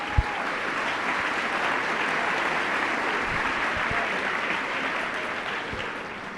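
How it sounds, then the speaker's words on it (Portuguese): A church congregation applauds steadily for the word of the Lord, a dense, even wash of clapping that holds for several seconds and eases slightly at the end. "dá uma salva de palmas para a palavra do Senhor"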